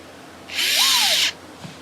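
A power drill drives screws into the leg bracket of an upside-down Jasper gaming table, making one close whirring burst of just under a second that rises and falls in pitch, with no voices.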